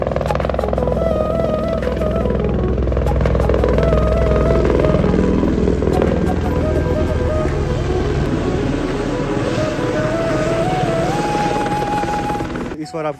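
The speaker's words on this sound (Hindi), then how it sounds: "हेलीकॉप्टर का सीन कुछ ऐसा है, 2 हेलीकॉप्टर इस बार आए हैं" Two helicopters' loud, pulsing rotor drone and whining engines fill the scene continuously at the Manimahesh Yatra, with people talking faintly underneath.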